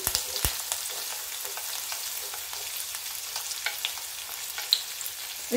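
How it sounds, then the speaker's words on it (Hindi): Chopped onion, garlic, cumin and a pinch of asafoetida fry in a pan, giving a steady, even sizzle that carries on unbroken, with a few light clicks of stirring and no talking. "अब इनको सुनहरा होने तक भून लेते हैं"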